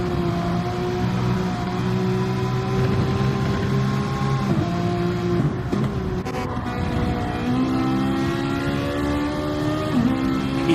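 Race cars, including a Ferrari and a Porsche, running nose to tail on a DTM racing video game track, engines droning steadily at high revs with pitch shifts through gear changes, loud and continuous with no voices.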